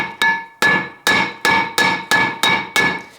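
A hammer strikes a Peugeot brake disc to knock off its rust lip, giving eight sharp, ringing metallic blows at an even pace, close and loud, with no voices.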